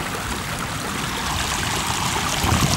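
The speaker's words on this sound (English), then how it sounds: "Here's water coming out of the overflow on the pond." Floodwater pours out of a pond overflow beside a county road during the May 2015 Texas floods, a loud, continuous, close rushing stream that swells slightly toward the end.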